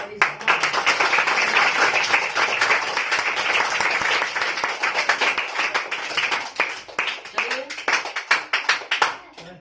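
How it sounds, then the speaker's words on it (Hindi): Children and an audience clap at a coaching-centre Teachers' Day celebration after a dance, with dense sustained applause that breaks into looser, uneven claps toward the end. "थोड़ा सा ताली लगा दे।"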